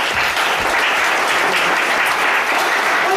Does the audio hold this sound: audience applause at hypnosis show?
yes